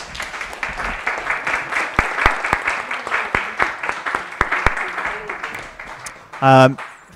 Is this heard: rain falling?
no